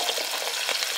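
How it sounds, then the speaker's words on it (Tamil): Small onions sautéing in hot oil, a dense, steady crackling sizzle heard close up for a brief moment with no voices. "வெங்காயம் பார்த்தீங்கன்னா வதங்கிட்டே இருக்கு."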